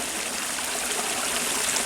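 A stream flowing along a hiking trail in Clark Reservation State Park, a steady close rushing and trickling of water with no pauses.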